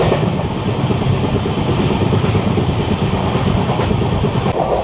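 Steel Express passenger train running at speed between Howrah and Tatanagar, a steady loud rumble and rattle of wheels on rails with continuous wind roar, no voices.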